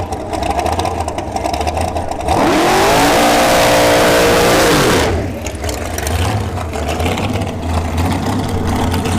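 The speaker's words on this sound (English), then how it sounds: "This is a nitrous Dragster." A nitrous dragster launches down a drag strip at a racing event, a loud, roaring engine blast lasting a few seconds with rising pitch and a pass-by sweep, amid crowd and track ambience before and after.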